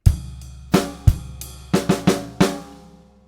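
One drum bar: a snare with ride cymbal, about eight close, clear strikes with ringing decay, played alone.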